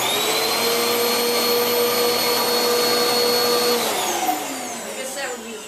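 A Panasonic bagless Jet Force upright vacuum cleaner with 9X cyclonic technology runs with a loud, steady whine, then its motor pitch drops as it winds down near the end.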